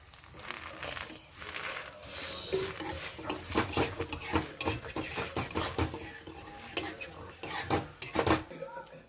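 Pav buns heat on an oiled tawa griddle, with busy clattering of a metal spatula and utensils against the pan and soft sizzling, fairly close and steady, no voices.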